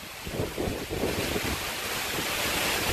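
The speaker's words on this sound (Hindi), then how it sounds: "देखो दोस्तों बहुत तेज हवाएं चल रही हैं।" Strong storm wind during lightning, gusting near a peepal tree and buffeting the microphone with a loud, continuous roar and rumbling gusts throughout, no voices.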